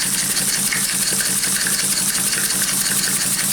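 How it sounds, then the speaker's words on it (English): A small live-steam engine runs steadily nearby, with an even, rapid chuffing beat that holds a constant pace throughout and no other sounds over it. "Steam engine running live steam."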